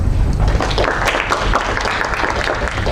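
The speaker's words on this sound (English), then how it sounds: "you deserve a good round of applause" A dense round of applause from an audience fills the room, many hands clapping together in a continuous, fairly close wash with a few faint voices mixed in.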